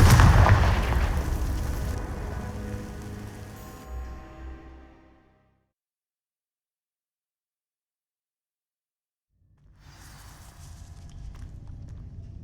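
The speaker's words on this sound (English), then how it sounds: "These dry vines are one spark away from becoming kindling. Confringo!" In Hogwarts Legacy, a Confringo fire spell bursts against dry vines with a loud explosive crackle that fades into several seconds of silence before a low rumbling ambience returns.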